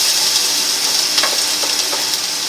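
Ginger tossed into hot oil for spicy fried garlic hisses in a loud, steady, close sizzle, with faint stirring scrapes and crackles running all the way through.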